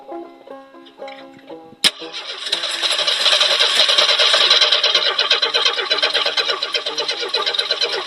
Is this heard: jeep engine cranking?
yes